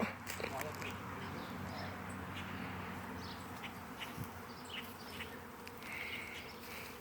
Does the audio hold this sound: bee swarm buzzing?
yes